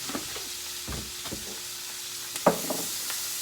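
Cabbage frying in oil in a pan gives a steady broadband sizzle with a few soft stirring knocks and one sharper clatter midway, heard alone at close range.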